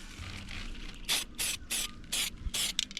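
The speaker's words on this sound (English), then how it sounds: "But then also use your gel spray." Anti-rust gel spray is sprayed onto a solar panel mount in about six short, sharp, hissing bursts with brief gaps between them, loud and close with no talk.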